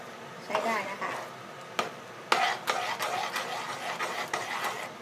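Thai jackfruit seed dessert mixture being stirred in a new pot over medium heat, with repeated scraping and clacking strokes at an uneven rhythm, fairly close, under a steady background hiss.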